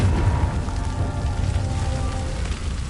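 A Confringo spell blast in Hogwarts Legacy, a loud booming burst giving way to a long, crackling rumble that hisses like debris raining down.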